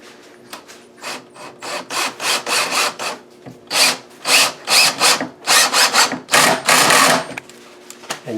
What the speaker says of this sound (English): And now we're going to drive that screw in there.